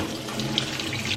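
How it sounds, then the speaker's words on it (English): Broccoli being rinsed under a running kitchen sink tap, a steady close splashing water flow that holds throughout without talk. "So we're back over at the sink because we need to wash our broccoli."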